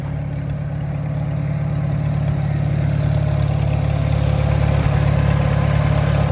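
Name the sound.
International Harvester Super W6 tractor engine running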